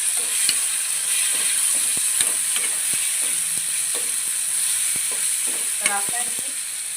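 Tomatoes fry in a kadhai for a peanut and tomato chutney, a steady bright sizzle running throughout with occasional sharp scrapes and taps of a stirring spoon against the pan.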